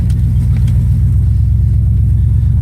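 A car in the video game A Long Drive gives a loud, steady low engine rumble with a constant drone throughout, nothing else audible.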